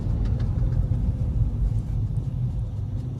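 Stage 2 remapped Volkswagen Polo running with its exhaust valve open, a steady low engine rumble heard from inside the moving car, continuous and fairly loud with no talk.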